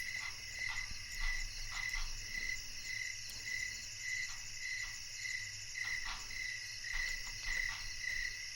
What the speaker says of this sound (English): I wouldn't be surprised if this exact cricket sound is copyrighted.